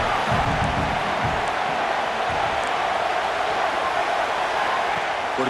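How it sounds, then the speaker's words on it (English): A stadium crowd in the College Football 26 video game roars steadily through the final minute of regulation, a dense, continuous wash of cheering with a few faint voices standing out. "The crowd is really getting into it."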